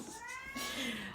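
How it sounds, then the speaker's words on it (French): A domestic cat meows in a drawn-out, wavering call against a noisy indoor background. "il y a mon chat qui est arrivé, donc voilà, il a sauté par la fenêtre."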